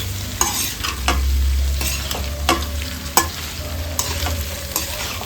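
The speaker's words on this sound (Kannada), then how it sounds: "ನಿಧಾನ ಉರಿಯಲ್ಲಿ ಚೆಂದ ಮಿಕ್ಸ್ ಮಾಡ್ತಾ ಫ್ರೈ ಮಾಡ್ಕೊಳ್ಬೇಕು" Cut pork is stirred and fried on a low flame for Coorg-style chilli pork, with crisp spoon scrapes against the pan recurring over a steady sizzle and low hum, close up with no voices.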